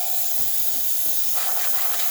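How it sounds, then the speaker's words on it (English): Steam wand on a Zacconi espresso machine, freshly serviced after a full tune-up, releasing a continuous, loud, steady hiss under strong pressure, with faint knocks in the background. "the machine has nice steam pressure coming out through there"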